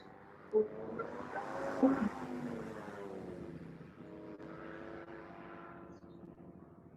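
A race car launches hard from the start at a One Lap of America event in Nashville, a rising engine roar building from a sharp burst into a sustained, fairly close rush that carries on steadily with some wind buffeting.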